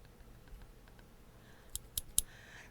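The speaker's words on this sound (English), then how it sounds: "Can you see these scissors?" Old, blunt scissors snip and click a few times, three sharp metallic clicks close together near the end after quieter handling sounds, faint and close with no talk.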